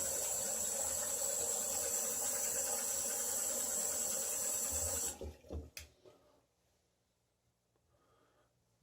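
Tap water runs in a steady, close hiss while someone rinses off after shaving, then cuts off about five seconds in, followed by a few drips and splashes and near silence.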